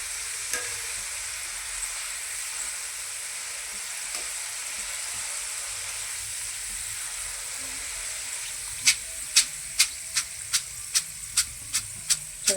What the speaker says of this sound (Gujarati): હવે આપણે બીજી દાળ પણ એ રીતે તળી લઈશું.